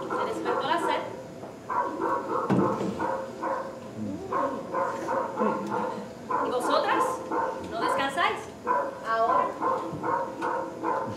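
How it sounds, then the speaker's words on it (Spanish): Dogs bark during a university touring theatre staging of a Spanish drama, with repeated bow-wows and yips in short bursts mixed with voices talking nearby. "Ladrando los perros."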